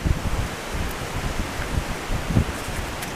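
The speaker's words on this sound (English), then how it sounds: "Unfortunately, it's very windy up here." Strong wind buffets the microphone on an exposed Iron Age hill fort, a dense rumbling roar with irregular gusty surges and faint rustling, close and continuous for a few seconds without speech.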